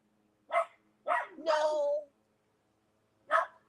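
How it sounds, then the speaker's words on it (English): A dog gives a few short, close barks: a pair in quick succession, a slightly longer yelping bark, then one more after a pause, with a quiet room behind. "You are just barking for fun."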